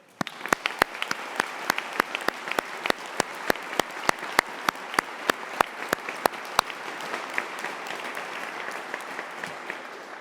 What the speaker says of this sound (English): give a huge round of applause for the graduates of the University of Greenwich